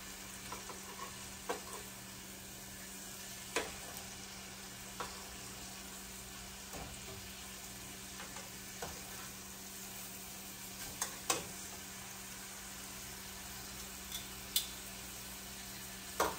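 Steady soft sizzle of lemon herb chicken frying in a pan, with occasional light clicks and taps throughout.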